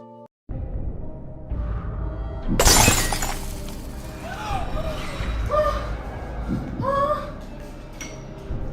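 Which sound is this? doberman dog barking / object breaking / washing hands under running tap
object breaking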